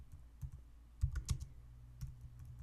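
Keys on a computer keyboard are tapped in a short, quiet, irregular burst of clicks, a few sharper strokes standing out near the middle, with no talk over them.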